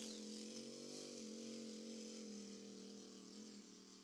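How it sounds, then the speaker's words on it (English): A high-pitched racing powerboat engine drones steadily as the boat takes off at a Lake Taupo race, a loud sustained whine that holds its pitch with slight wavering, with no voices. "There's the hum. You'll hear it take off."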